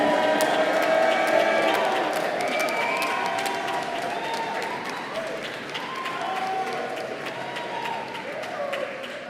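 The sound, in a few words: graduation audience cheering loudly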